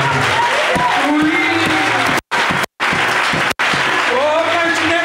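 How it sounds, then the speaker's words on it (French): A religious gathering in Gabon bursts into sustained applause, with dense clapping and cheering crowd voices that fill the space and carry on with only brief cuts. "Acclamons pour le Dieu du Gabon."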